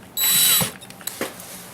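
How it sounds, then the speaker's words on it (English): A cordless-style power drill whines briefly while driving the screw of a toggle bolt into a wall, a short high-pitched burst followed by faint clicks and handling noises nearby. "put my drill back on there"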